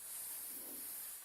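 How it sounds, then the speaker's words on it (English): A spray gun lays transparent blue paint with no pearl onto a helmet, giving a faint, steady airy hiss that runs unbroken for just over a second with no voices. "Make sure it's spraying okay."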